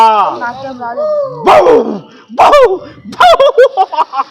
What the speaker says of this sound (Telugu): వచ్చేసింది కుక్క